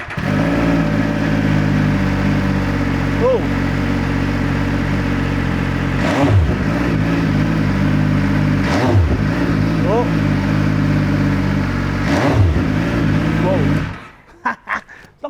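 An MV Agusta Superveloce motorcycle fitted with an aftermarket exhaust cold-starts with a loud, steady idle. It is punctuated by three or four sharp revs and cuts off near the end, while a voice exclaims over it.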